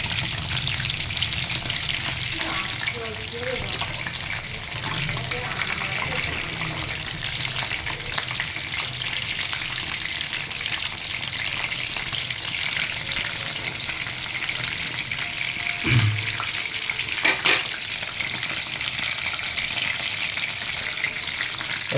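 Pieces of food frying in a pan until they turn reddish, giving a loud, dense, continuous close sizzle that runs unbroken with a few faint clinks, and no voices.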